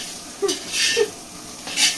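Potatoes frying in a pan sizzle close up, with short bursts of stirring and a soft scrape of utensil against the pan.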